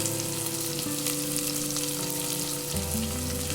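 Grated ginger sizzles and fries in hot oil in a pan for poori masala, a loud, close, steady crackle with some stirring underneath and no talking.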